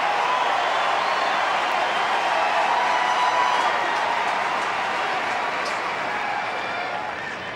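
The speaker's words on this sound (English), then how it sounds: "listen to the crowd's excitement at the prospect of a tiebreak" A large tennis crowd at the 2004 Cincinnati semifinal between Agassi and Roddick fills the arena with a loud, sustained murmur of excitement before a tiebreak, fading slightly toward the end.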